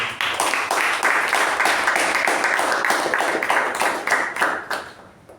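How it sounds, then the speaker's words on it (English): Meeting audience applauding the evaluators, a dense, steady roll of many hands clapping close by that swells through the middle and thins out in the last second. "Let's give a big round of applause to both the evaluators."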